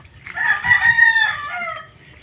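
A rooster crows once, a long drawn-out call, close and loud against a quiet background.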